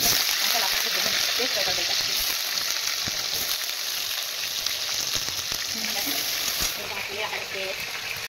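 Whole cumin seeds and bay leaves frying in hot oil in a home kitchen, a steady close sizzle and crackle with occasional stirring and faint background sounds throughout.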